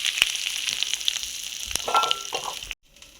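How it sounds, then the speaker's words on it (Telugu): Tempering spices and curry leaves fry in hot oil for a cabbage tomato chutney, giving a close, steady crackling sizzle with scattered pops that cuts off abruptly near the end. "కొంచెం తాలింపులు ఫ్రై అవుతుంది కదండి, కొంచెం కరివేపాకు వేద్దాం"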